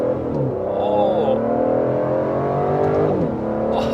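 Aston Martin DBS Superleggera V12 engine revving, with a loud, close, sustained rising and falling engine note climbing in pitch through the revs.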